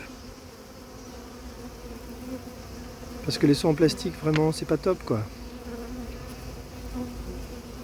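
A steady swarm of honeybees hums throughout as the swarm is collected, with someone speaking briefly in French over the buzzing in the middle.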